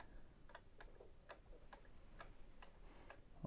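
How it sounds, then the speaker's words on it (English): A pendulum clock ticks steadily, about two ticks per second, soft and close in a quiet room with faint background hiss and no talking. "See this clock right here? It has what's called a pendulum. It ticks back and forth,"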